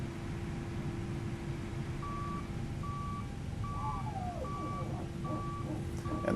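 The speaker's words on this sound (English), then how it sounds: "And that is the PTU pressurising." An Airbus A320 power transfer unit pressurising in Microsoft Flight Simulator, heard as a steady run of evenly spaced electronic beeps over a constant low hum, with no one talking.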